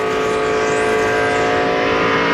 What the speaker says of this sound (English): Screaming that engine is right.